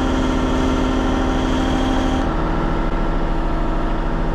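Steelwrist X04 tiltrotator with gripper cassette spinning on an excavator, a loud steady engine and hydraulic drone with a high whine that drops in pitch partway through, continuous and close.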